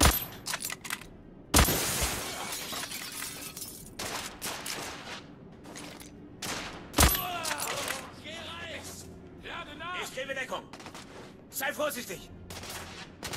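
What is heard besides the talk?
sniper gunfire in the video game The Order: 1886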